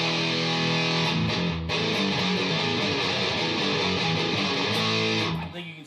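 An electric guitar through an Electro-Harmonix Pocket Metal Muff distortion pedal playing dense, saturated sustained chords, loud and continuous before fading out at the end.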